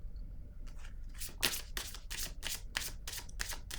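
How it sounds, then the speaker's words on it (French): Cards from a deck handled and shuffled, a quick series of soft riffling, snapping card sounds close by with no talking. "Je vais piger une autre carte."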